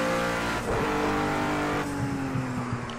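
A race car in Project Cars 2 at Sonoma Raceway accelerates at full throttle, its loud engine note climbing steadily through the revs with no break.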